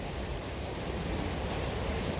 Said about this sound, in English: the waterfall up there